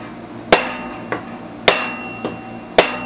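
Small 1/4-inch impact driver tightening bolts on a Honda-clone generator engine: three loud, sharp close-up bursts alternating with softer clicks, each ringing briefly with a metallic tone.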